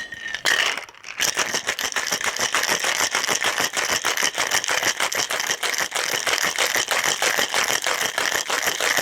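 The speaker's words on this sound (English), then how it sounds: "And then you're going to give it a shake." Ice and dark rum rattle inside a cocktail shaker in a fast, steady back-and-forth rhythm, loud and close, continuing for several seconds after a brief start, with no talking.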